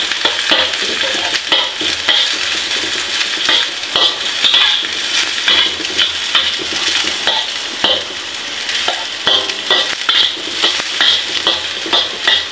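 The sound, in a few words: garlic sizzling and being stirred in a frying pan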